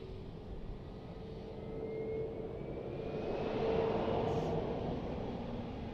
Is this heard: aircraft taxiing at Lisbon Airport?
yes